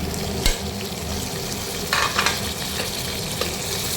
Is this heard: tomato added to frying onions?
yes